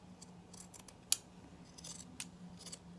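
Scissors cut along the edge of a paper template, giving a series of crisp snipping and rustling strokes close by, with one sharp metallic click partway through and no talk.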